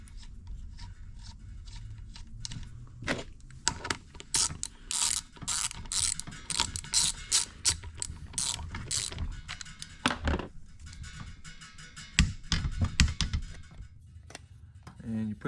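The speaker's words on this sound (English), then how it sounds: "Next is the flywheel. You're going to torque this to 40 foot-pounds." A torque wrench ratchets in rapid clicking bursts while a flywheel is tightened to 40 foot-pounds on a Honda CR250 two-stroke motorcycle engine during assembly, the mechanical clicks close and loud, with brief talk at times.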